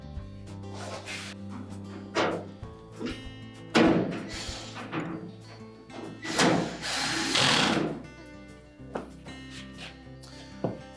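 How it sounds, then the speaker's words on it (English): A power drill drives a single screw into the support bracket of a GE dryer. It gives several short whirring bursts and louder revving pulls, mixed with metallic thunks and a sustained low hum. "reinstall the single screw on the right hand side here that we removed from that support bracket"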